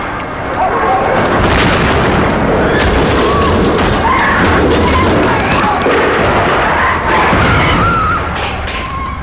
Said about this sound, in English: Gunfire, explosions and screams echo across Prince's Gate.